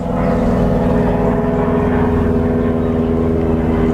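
A steady, loud propeller drone fills the clip, like a low-flying plane passing overhead, with no voices.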